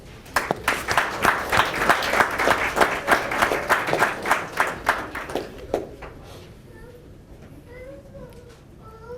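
Round of applause from a city commission meeting audience honoring student Cameron Davis, a dense burst of clapping lasting about six seconds, then fading into quiet room noise with a faint voice.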